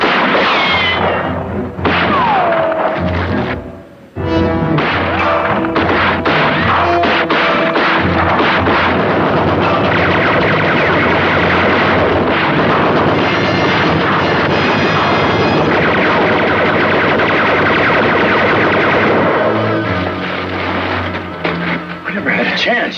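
Gatling gun fire in a Western TV drama, dense rapid bursts and booming blasts almost without pause, loud and close, with shouted voices mixed in.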